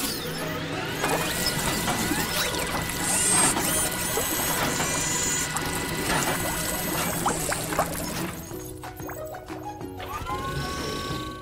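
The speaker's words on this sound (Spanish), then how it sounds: "¿Listo para los cepillos, Matt?" Cartoon car wash brushes spin and scrub a car with a busy, continuous whirring and mechanical clatter, steady and loud throughout with no talking.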